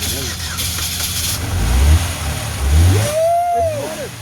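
A Saturn Ion's engine cranks and catches, revving up in a couple of swells before settling into a rough run, with excited voices shouting nearby.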